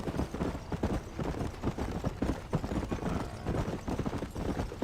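Horse hooves clip-clop steadily and continuously in Red Dead Redemption Remastered, a close, busy rhythm of hoofbeats carrying through the whole stretch with no talk over it.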